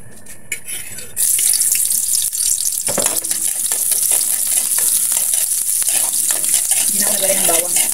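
Bitter gourd hits hot cooking oil in a pan with a sudden loud hiss, then sizzles and crackles steadily up close, with occasional stirring scrapes and a brief voice at the start.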